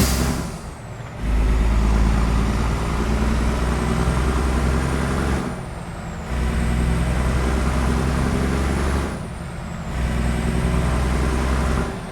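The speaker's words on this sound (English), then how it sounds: "You can hear the engine pretty nice too" Diesel engine of an FLX 359 truck in American Truck Simulator, a steady low drone heard from inside a quiet cab on a sunny Washington drive, swelling and easing in three long stretches with brief air-brake hisses between them.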